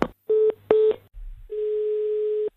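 A telephone call in progress produces a short burst of tones, two brief beeps, a pause, then a longer sustained tone, all sharp and close with no talking.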